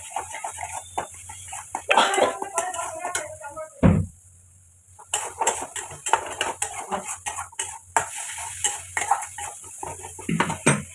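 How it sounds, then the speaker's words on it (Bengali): A curry is stirred and sautéed in a pan with metal utensils, producing irregular scraping and clinking knocks, close and moderately loud, with a short quiet pause midway and faint background noise. "এবার কষিয়ে নেবো, ভালো করে কষিয়ে নেবো, সুন্দর করে কষিয়ে নেবো তরকারিটাকে"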